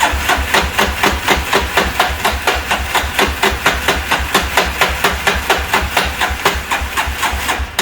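A 1998 Yamaha Warrior ATV engine catches and runs, loud and close, with a fast, steady, hammering single-cylinder thump at an even idle-like rhythm that continues without pause.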